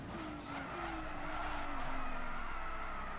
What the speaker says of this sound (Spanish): Eso sí, los neumáticos suenan que da gusto.